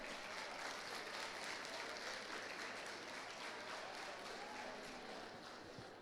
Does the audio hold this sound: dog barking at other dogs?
no